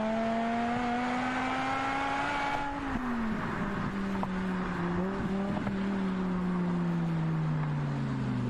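A car drives at speed on a highway during a police chase, its engine droning loud and close with a falling pitch as it shifts and eases off, plus brief tyre and road noise and no talk.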